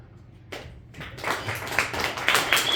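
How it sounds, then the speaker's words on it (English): Audience at an open mic comedy night at Jarrods breaks into applause for comedian Thomas Costanzo, starting as scattered claps and swelling into steady, fairly close clapping that builds through the end. "give another round of applause for Thomas Costanzo"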